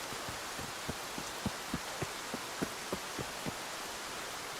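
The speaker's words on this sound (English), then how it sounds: "that rain is super loud, guys" Heavy rain in Escape From Tarkov pours steadily as a dense, loud hiss, with faint regular low thuds pulsing underneath, and no voices.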